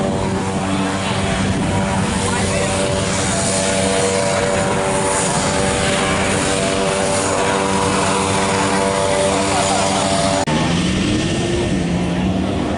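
A propeller airplane takes off at an outdoor airshow, its engine roaring loud and steady with a droning tone that shifts near the end, as someone talks over it.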